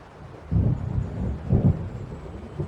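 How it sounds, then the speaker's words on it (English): Low rumbling thunder of an approaching storm in the Alan Wake Remastered horror game, two deep rolling swells over a steady background rumble, no speech. "It seems there's a storm coming."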